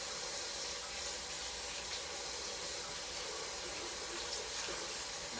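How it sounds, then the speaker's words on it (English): Water sloshes and hisses steadily as dirty parsley is rinsed in a bowl, a soft continuous wash of running water with no talking. "So you'll know when you're done once the water is clean and free of dirt and soot and grit."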